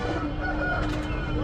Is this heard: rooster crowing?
yes